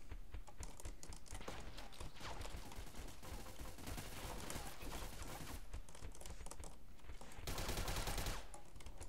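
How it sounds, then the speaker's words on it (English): Rapid bursts of gunfire from the video game BeGone crackle continuously alongside a busy clatter of keyboard typing, with a louder burst near the end. "someone just shot at me"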